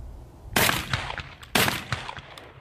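Two loud, sharp shotgun blasts about a second apart from a Beretta A300 Ultima firing 3-inch shells at an outdoor range, each followed by a short echoing tail.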